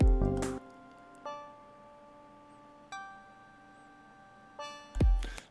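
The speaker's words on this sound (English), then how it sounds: "the banked notes here sound like this in this context." Banked notes from an OP-XY synthesizer arpeggiator, a few sparse sustained tones entering one after another with soft attacks and long decays between thumpy bursts at the start and end, close and clear, no speech.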